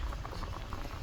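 Rice and beans boil in a pot with a close, continuous bubbling and popping patter over a low, steady simmering rumble, without speech.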